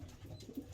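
A pigeon coos softly in a loft, a low, faint, burbling call lasting under a second against quiet background noise.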